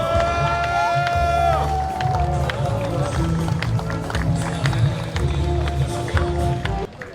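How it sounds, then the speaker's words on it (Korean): A crowd at an outdoor public-sector union rally claps and cheers. The mass of noise is dense and busy, with whoops and scattered sharp claps, and voices ring out over it. "동지 여러분의 큰 박수 함성 부탁드리도록 하겠습니다."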